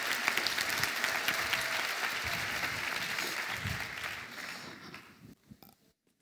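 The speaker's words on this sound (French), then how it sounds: "Par applaudissement dans la salle." An audience in a hall applauds, dense clapping at a steady level that gradually thins and fades out over several seconds, ending in a few scattered claps.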